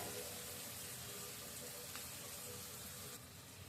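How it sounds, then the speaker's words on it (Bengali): Tap water running steadily while fish are washed in a home kitchen, a faint continuous hiss with no clear breaks. "এই যে এবার মাছগুলো ধুয়ে টুয়ে পরিষ্কার করে নিয়ে আসছি"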